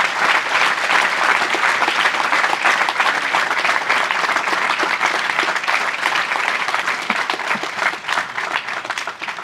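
Loud, sustained applause from a large audience for the gift of a car key on Friendship Day, dense clapping holding steady throughout and thinning slightly near the end.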